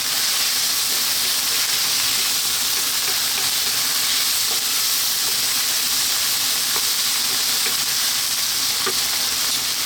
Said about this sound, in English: We're now going to drop in that tomato.